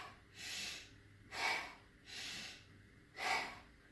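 Deliberate heavy breathing during a breathwork exercise: four strong, slow breaths alternate between a rushing nasal inhale and a forceful mouth exhale, close to the microphone in a steady rhythm.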